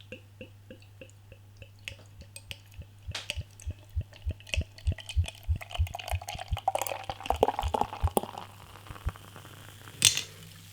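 Premium stout aged in Irish whiskey casks glugs from the bottle into a glass in a steady run of rhythmic pulses that quicken and grow louder, then give way to foamy fizzing and a final clink near the end.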